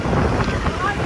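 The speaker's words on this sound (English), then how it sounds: "It's windy." Strong gusts buffet the microphone on a windy outing near a yellow rail line, a loud, continuous low rumble and roar filling the short moment with no clear talk.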